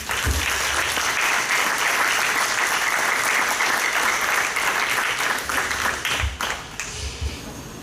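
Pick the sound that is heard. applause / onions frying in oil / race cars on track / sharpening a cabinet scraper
applause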